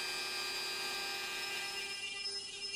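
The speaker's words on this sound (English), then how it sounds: "the last thing to carve out on the CNC is the cherry background" An X-carve CNC router carving out a cherry wood sign background with a 1/8 inch straight cutting bit gives a steady, loud, high-pitched whine that runs without a break from start to finish, with no voices.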